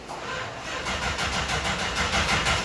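A 1964 Dodge Dart engine cranking and catching, with a rapid rhythmic churn that settles into a rough, uneven running rumble close by, no talking.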